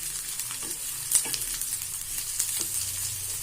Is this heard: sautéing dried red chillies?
yes